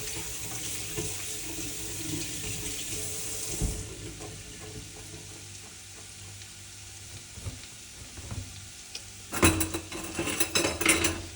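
Kitchen tap running steadily into a small home sink while something is rinsed off, a constant close wash of water that swells into louder, splashier gushing near the end, with no talking.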